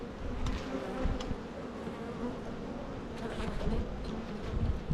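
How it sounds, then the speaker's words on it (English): Dense, steady hum of honey bees swarming around an opened hive as frames are worked, a continuous close buzz with scattered louder passes near the listener and no talking. "So, shake those bees off that are on there."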